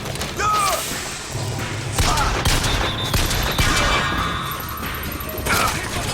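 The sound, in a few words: golden pistol gunfire in the video game Bioshock Infinite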